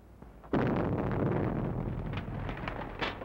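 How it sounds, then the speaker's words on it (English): An explosion at a house in an old crime film, heard as a sudden loud booming blast that rolls into a sustained rumbling roar and crackle. "Explosion in 93 Madeira Drive."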